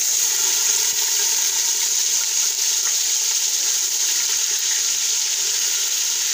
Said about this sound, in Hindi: अब मैं इसमें 2 टेबल स्पून लहसुन और 2 टेबल स्पून अदरक, जिनका मैंने पेस्ट बना लिया है